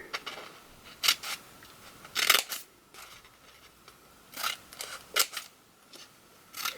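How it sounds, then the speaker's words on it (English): Scissors snip slits along the folded end of a sheet of paper for a handmade paper flower, a series of sharp, close cuts in irregular bursts with quiet pauses between them. "I'm going to cut the slits at the folded end."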